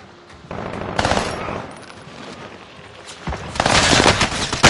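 Gunfire in a PS4 video game: bursts of rapid automatic fire and scattered shots, loud and crackling, building into a heavier barrage toward the end, with brief faint voice chatter.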